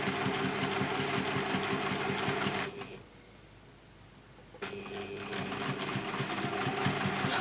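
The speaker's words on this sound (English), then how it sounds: "we're going to sew again, just down through the middle there" A domestic sewing machine stitches fabric rectangles onto a base square, a close, rapid mechanical chatter that stops for nearly two seconds, leaving quiet room tone, then resumes at the same speed.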